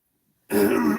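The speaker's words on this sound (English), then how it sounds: "I wasn't coughing this much earlier" A single short, rough cough or throat-clear from a person bursts out close and loud after a moment of silence.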